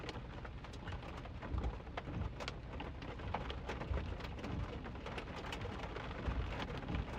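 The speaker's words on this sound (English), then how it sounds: "It looks like they might be about to get some hail" Hail falling with rain during a North Carolina tornado storm, dense steady patter of drops and sharper ice hits on surfaces, with occasional louder impacts and distant rumbles throughout, no voices.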